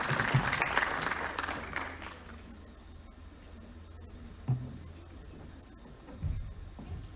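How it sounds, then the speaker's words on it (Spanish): Audience applause at a nutrition and mental health conference, fairly faint and fading after the first two seconds, followed by quieter room noise with a few scattered knocks. "Demos un aplauso"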